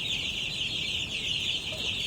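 Chickens cluck faintly over a constant high-pitched hiss of background noise, with no talking.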